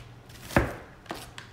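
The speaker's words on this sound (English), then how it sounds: "I'm just gonna chop it." A knife chops an onion on a board: one sharp, loud cut, followed by two softer, quicker taps, close by in an otherwise quiet room.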